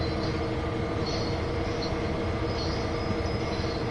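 An SD40-2 diesel locomotive in the Train Sim World 2 game on Sherman Hill, rolling to a stop under braking, with a steady rumbling wheel-and-rail roar and faint high brake squeals drifting over it.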